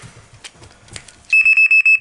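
A Fox Micron fishing bite alarm sounds at raised volume, giving five sharp, loud electronic beeps in a quick regular series after some brief handling noise.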